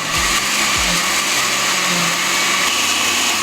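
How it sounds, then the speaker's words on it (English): Kitchen blender whirring at speed while blending green salsa, a loud, steady, close motor roar with a few low thumps of ingredients early on, running continuously with no talking. "When you start a blender, start slow and work the speed up."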